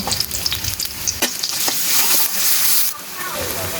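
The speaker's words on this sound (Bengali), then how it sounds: "তেলটা যখন গরম হবে পেঁয়াজ কুচি দিয়ে দেব" Chopped onion hits hot oil and breaks into a loud, steady sizzle with a few sharp crackles and stirring scrapes near the start, holding a dense hiss throughout.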